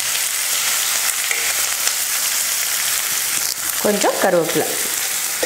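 Onions, curry leaves, cardamom, cinnamon and cloves sauté in hot oil in a kadai, a loud continuous sizzle with stirring scrapes, and someone briefly speaks near the end.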